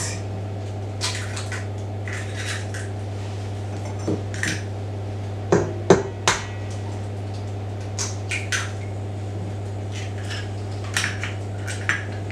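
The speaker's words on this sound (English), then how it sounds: "I'll be breaking my eggs, 2 of it" Two eggs are cracked against a bowl while making coconut cookies. A few sharp knocks and taps stand out over a constant low kitchen hum, with light clinks scattered in between.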